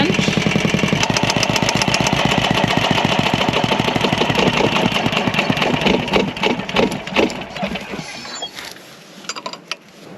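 A boat's diesel engine idles with a loud, steady rapid chugging, then stutters and winds down unevenly as it is shut off by hand with a 17 mm wrench, leaving sputters and clinks at the end.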